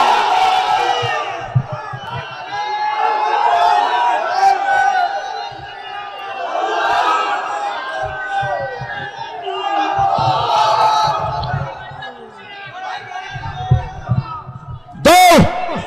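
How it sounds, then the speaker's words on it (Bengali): A large outdoor crowd at the Charmonai rally ground shouts the takbir chant in unison, loud and sustained, in several swelling waves answering a man's call. A microphone spike briefly cuts through near the end. "এমন এক তাকবীর আমি চরমনার ময়দান থেকে দেখতে চাই। বলো নারায়ে তাকবীর।"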